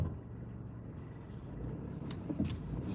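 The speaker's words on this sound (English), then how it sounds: "Now cars coming again." A car passing on a residential street at night, a low steady engine and tire rumble that swells gently toward the end, with a couple of faint clicks and no talking over it.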